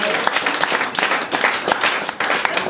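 An audience claps for a speaker in a loud, close burst of applause, individual hand claps distinct within the steady crackle, sustained without talk.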